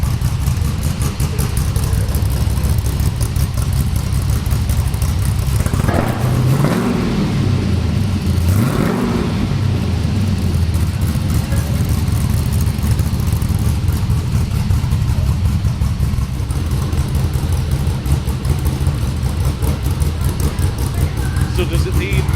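Car with an LS V8 engine fitted with a budget camshaft, idling with a lumpy loud rumble and blipped through two sharp revs in quick succession, with people talking over the steady engine drone.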